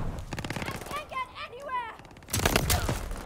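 Rapid automatic gunfire in Call of Duty Vanguard, loud bursts of close shots with a brief lull in the middle where a voice speaks, then another heavy volley.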